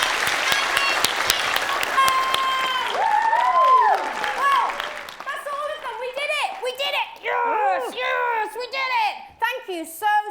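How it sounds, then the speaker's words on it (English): At a children's book award ceremony, an audience claps for a child, the applause loud at first under cheering and lively children's voices, then thinning out as shouting and chatter take over. "Can we give Jamie a really big clap?"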